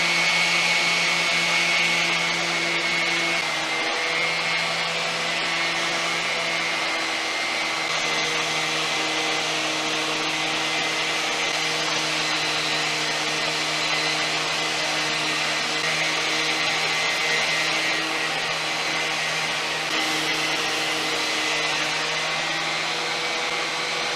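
A wire wheel spins steadily against threads on a Harley Ultra Classic fairing part, scrubbing off old Loctite, a continuous close whirring hum with slight shifts in pitch.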